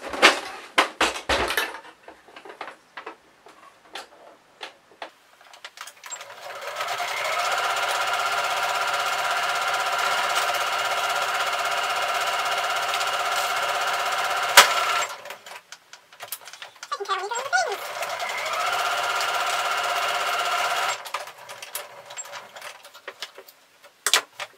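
Sewing machine stitching a fabric seam for a reusable Christmas cracker tube, a rapid steady mechanical chatter running for several seconds at a time, stopping briefly and starting again, with fabric handling rustles around the runs.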